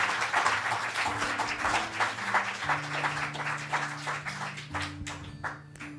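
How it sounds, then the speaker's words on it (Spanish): A church congregation applauds during a worship service, a sustained dense clapping with sustained organ or keyboard tones droning underneath, tapering slightly toward the end. "Denle un aplauso, Señor, claro que sí"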